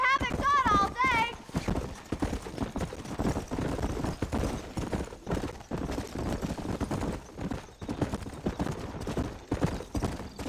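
Horse hooves gallop in Red Dead Redemption, a continuous clip-clop under game action and loud dialogue, with a brief whinny near the start.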